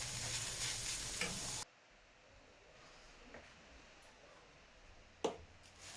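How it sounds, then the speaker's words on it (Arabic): Minced meat with parsley frying and being stirred in a pan, a steady close sizzle that cuts off abruptly, followed by quieter faint kitchen clinks and a sharp knock near the end, with no voices. "واللحم المفروم ندير له شوية معدنوس ونكملو نقلوها غير شوية"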